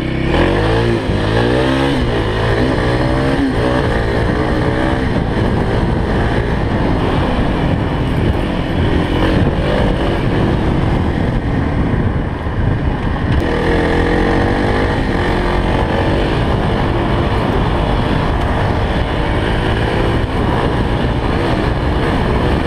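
A Kawasaki KLX 351 motorcycle runs fast with a loud, steady engine drone and heavy wind rush that stays constant, the pitch wavering slightly as the rider holds speed.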